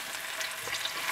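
Garlic sautéing in hot cooking oil in a pan for a Filipino beef and green bean dish, giving a steady, close hiss of frying with no talk.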